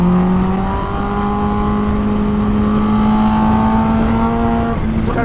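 A Kawasaki Ninja H2 motorcycle engine accelerates hard, a loud close rising whine climbing steadily in pitch through the gear with wind noise behind it.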